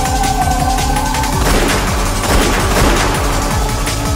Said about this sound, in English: They heard gunfire from down the hallway.